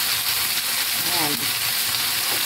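Ginger frying in a pan for chicken adobo, a loud, close, continuous sizzle with a faint trace of a voice mixed briefly into the hiss.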